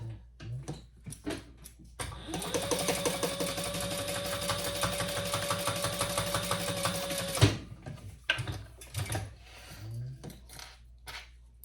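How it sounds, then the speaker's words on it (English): A sewing machine top stitches a trifold wallet in one steady close run of about five seconds, with a rapid even needle rhythm, framed by handling clatter before and after. "And then let's top stitch this."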